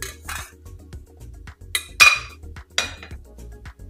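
A spoon stirring dal in a metal cooking pot gives a few sharp metallic clinks and scrapes at irregular intervals, close and distinct, with no voices.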